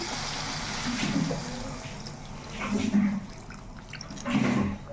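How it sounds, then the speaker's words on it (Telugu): Water from a glass poured into a cooking pan of ridge gourd and dried prawns, a continuous liquid splash and gurgle in a few swelling bursts, close and fairly soft. "వాటర్ అయితే వేసుకుందాము"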